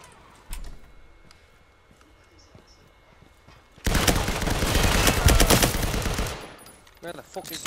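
A shooter video game sends out a dense, loud burst of rapid gunfire lasting a few seconds, after a quieter stretch with a few faint thuds.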